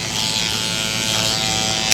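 A tattoo machine fitted with a 7 magnum needle buzzes steadily and close, a constant high electric hum with no pauses during outlining on skin.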